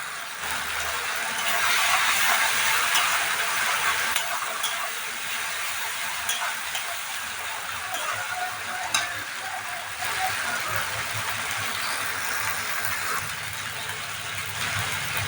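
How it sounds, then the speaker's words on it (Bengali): Curry sizzles and fries steadily in a pan while being stirred, with a continuous close hiss and occasional scraping through the whole stretch. "ভালো করে এটাকে নাড়তে হবে, ভালো করে ভাজতে হবে।"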